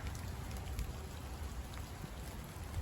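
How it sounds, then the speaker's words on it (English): Steady rain falling during hammock stealth camping, a dense close patter of drops hitting a surface, continuous and fairly soft with no voices. "All the rains get all up in my screen."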